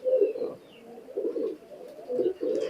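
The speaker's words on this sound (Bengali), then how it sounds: "এইগুলো সব আমার ফ্লাইং এর কবুতর ভাই, মানে এগুলো সব ফ্লাইং এর জন্য" High-flying pigeons of an imported bloodline coo close by in soft, repeated rolling bursts with short pauses between them, and a sharp click sounds at the very end.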